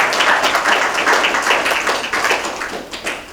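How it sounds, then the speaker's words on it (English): A Toastmasters meeting audience claps warmly, bright overlapping hand claps in a quick, slightly uneven rhythm, close and fairly loud, tapering toward the end. "Please give a warm applause to Toastmaster J. Shah."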